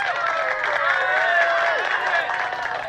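A studio audience breaks into dense applause and cheering as comedian Pete Holmes is welcomed on stage, a steady wash of many clapping hands and shouts held at even loudness throughout.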